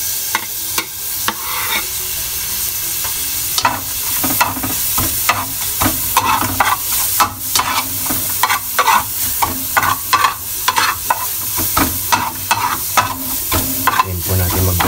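Garlic frying to golden brown in a pan for pork pochero, a loud, continuous sizzle broken by frequent sharp clanks and scrapes of a spatula stirring.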